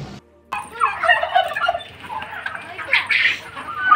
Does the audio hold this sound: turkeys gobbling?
yes